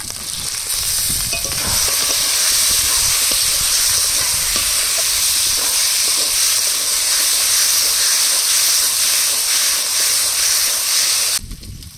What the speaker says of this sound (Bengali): ভেজে রাখা মাছগুলো দিয়ে আর 2 মিনিট কষিয়ে নেব